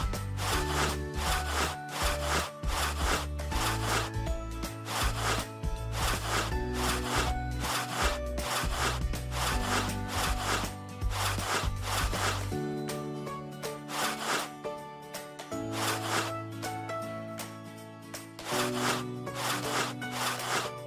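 Repeated rubbing and scrubbing strokes from a kids' cleaning game, Daddy Helper, played steadily over a loud, continuous cartoon music track with no talking.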